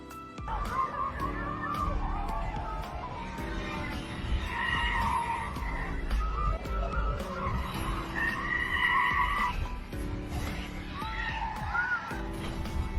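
Tyres screech loudly and continuously as a car skids in a near accident on the road, with a wavering high squeal rising and falling over several seconds.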